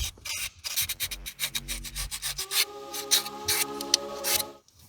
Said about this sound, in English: So we're just going to give it a light little sanding down.